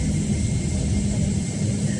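Airplane cabin before takeoff on a Boxing Day 2020 flight, a steady low engine and ventilation rumble filling the space evenly with no talk.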